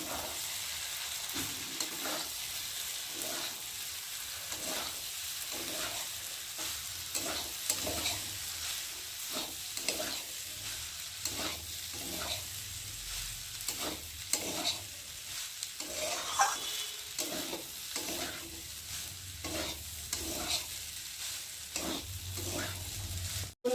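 Pasta sizzles in a frying pan while a spatula stirs it in regular scraping strokes, a steady rhythm of scrapes over continuous frying hiss at close range.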